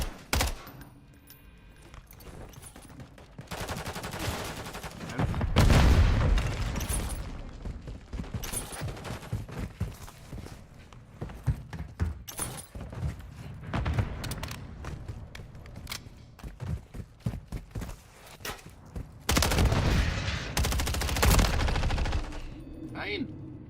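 Gunfire in the Modern Warfare 3 video game, rapid bursts and single shots crackling loudly in clusters, with someone speaking German over the shooting at times.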